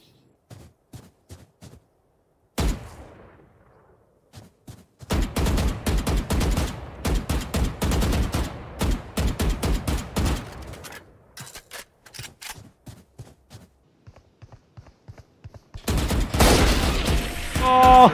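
Bursts of rapid gunfire in the video game Valorant, clusters of loud shots with brief gaps, a heavier sustained volley near the end, with no talk over it.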